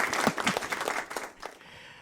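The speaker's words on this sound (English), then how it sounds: "that deserves a round of applause, doesn't it?" Brief, scattered clapping at an online benefit concert, a few distinct claps close by that thin out and fade within two seconds.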